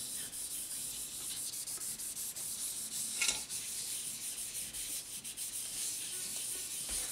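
Aluminum metal is sanded by hand, a continuous close rasping scrub of abrasive on metal with steady back-and-forth strokes and no talking.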